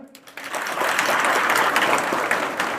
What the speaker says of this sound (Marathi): जोरदार टाळ्या वाजवा बरं